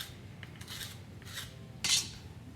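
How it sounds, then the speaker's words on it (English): Hand scraping a marbled clay pottery vase with a tool, giving a few close, dry rasping strokes that build to one louder scrape near the end, alone without talk. "Going to take this, and I like to scrape up with it"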